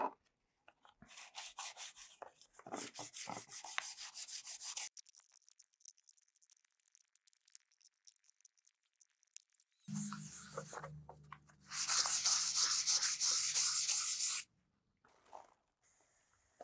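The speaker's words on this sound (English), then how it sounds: "So I'm gonna go through and sand each one of these and then paint them again." Laser-cut MDF pieces that have been painted are sanded by hand in repeated rubbing bursts, with a gap of silence in the middle and a louder, steady stretch of scraping near the end, close up.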